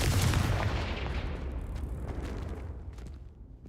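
A Confringo blasting spell goes off in a Harry Potter video game, a loud heavy boom that rolls into a long rumbling decay, with no voice over it.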